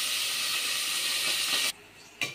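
Curry leaves, garlic and dry red chillies hitting hot oil, a loud sharp hiss and sizzle that cuts out suddenly, then a brief second burst.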